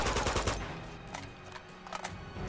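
Gunfire in the Uncharted 2 video game: a quick burst of loud shots at the start, then scattered single reports under a busy game soundtrack.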